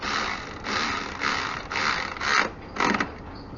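Ratchet clicks from a 17 mm socket snugging a fastener on the front axle of a 1956 Willys CJ5 during a solid rotor install, coming as several short bursts of close, moderately loud mechanical clicking with brief pauses between strokes.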